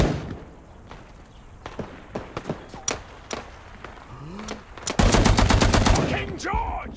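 A Vickers Maxim Mk.I machine gun fires in a video game, starting with scattered separate shots and then breaking into a loud, fast continuous burst. Brief voice sounds occur between the shots.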